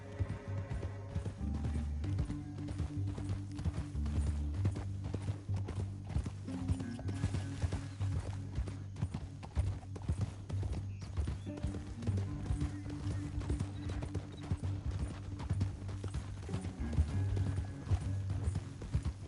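Horse hooves clip-clop steadily in Red Dead Redemption 2, a continuous rhythmic beat at moderate distance over a low musical drone, with an occasional faint snort.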